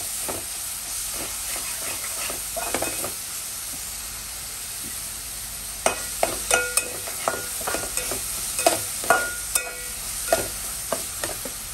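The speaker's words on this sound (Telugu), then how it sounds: "ఫస్ట్ ఇది మంచిగా రోస్ట్ చేద్దాం." Paste roasting in oil in a pan for leftover-rice pulihora: a steady sizzle and hiss, with a run of sharp spoon-scraping stirs and pops growing denser in the second half.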